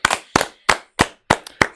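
About six loud, sharp claps in a steady rhythm, a group giving a big thank-you clap to Ricardo, each burst close and bright, with no talk over them.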